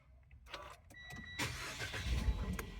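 A car fitted with a newly installed LiFePO4 battery starts on the key: faint clicks, then the engine cranks and catches into a steady, close running rumble.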